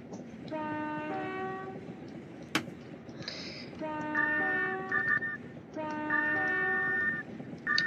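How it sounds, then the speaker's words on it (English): Depot whistle of a Class 377 Electrostar electric multiple unit in Train Simulator 22, sounding as a series of bright, steady multi-tone blasts, close and loud, repeated several times with short gaps over a low rumbling background. "So B is its depot whistle"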